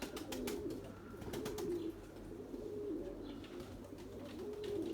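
White Erzurum pigeons cooing, soft, low, rolling coos repeating steadily against faint background noise, fairly quiet and distant-sounding.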